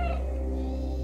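A cat meows in the video game Stray, one short close call over a steady low hum of game ambience.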